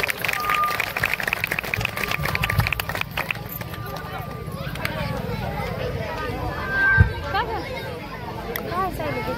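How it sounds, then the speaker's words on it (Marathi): An audience claps for the organisers at a crowded community gathering with a paithani sari giveaway. Dense, loud clapping fills the first few seconds, then thins into crowd murmur and a few scattered claps. "एकदा जोरदार टाळ्या वाजवा यांच्यासाठी."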